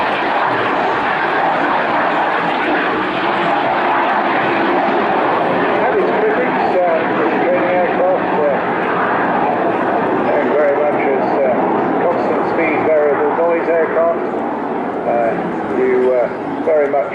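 A BAC Strikemaster jet trainer flies at the Bournemouth Air Festival, giving a loud, steady engine roar that holds throughout while a voice talks over it.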